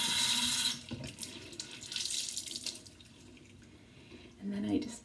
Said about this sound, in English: and I run it under warm water.